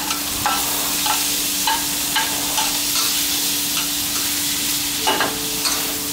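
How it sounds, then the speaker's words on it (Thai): Long beans stir-frying with red curry paste in a hot pan give a constant close sizzle, broken by periodic scraping and tossing strokes. No voices. "เราก็จะใส่ถั่วฝักยาวลงไปนะครับ หลังจากผัดพริกแกงจนหอมแล้ว"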